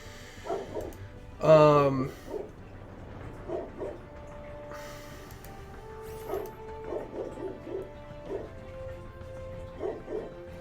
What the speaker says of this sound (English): I am sorry that you have to listen to the dogs there.